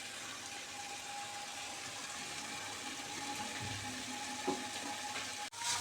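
Mustard oil heating in a wok on a stove gives a faint, steady low hiss and crackle throughout, with a soft clink near the end.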